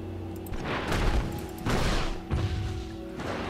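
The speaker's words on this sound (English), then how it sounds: "Trundle is just going to keep thunking away" Trundle repeatedly striking a turret in League of Legends, delivering heavy thudding impacts in a steady rhythm amid dense game effects, with about three strong hits standing out loudly.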